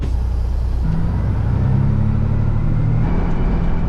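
A grain truck rolls in toward a combine at harvest, its engine a steady close rumble with a slight rising drone as it moves, continuous throughout without talk.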